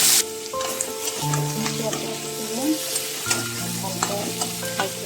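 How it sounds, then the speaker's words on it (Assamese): Onions sizzle in a hot pan for a chicken curry, a steady close frying hiss with scattered stirring clatter and small metallic clinks throughout. "পিঁয়াজ দি দিছোঁ।"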